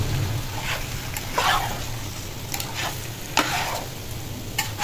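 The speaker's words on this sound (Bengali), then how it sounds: "এখন পোলাওর চাল আর মাংসর সাথে ভালো কিছুক্ষণের জন্য ভেজে নিব।" Polao rice and meat for tehari frying together in a pot, a steady sizzle broken by repeated scraping strokes of a spoon, close and fairly loud.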